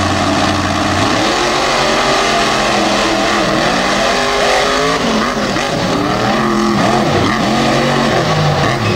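A heavy racing truck with plenty of horsepower roars hard down the drag strip at Thunder in the Valley 2022, loud and close, its engine pitch sweeping up and down through gear changes.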